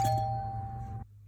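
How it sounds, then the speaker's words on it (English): A home doorbell gives a single bright ding-dong chime that rings out clearly for about a second before cutting off abruptly, heard alone indoors with no talk. "So this is what my doorbell normally sounds like."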